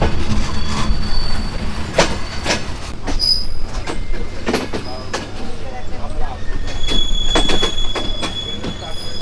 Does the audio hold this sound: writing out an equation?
no